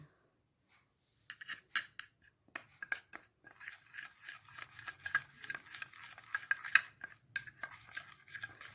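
Kashmiri red chili powder being stirred into oil in a pan for tandoori chicken, heard as close, irregular scraping and clinking of a utensil against the pan after a silent start.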